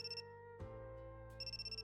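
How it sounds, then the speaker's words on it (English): A phone ringtone in the visual-novel game Riddle Joker plays as a steady electronic tone with repeating pulses, starting, pausing briefly, then resuming, with no talk over it. "My phone starts to ring."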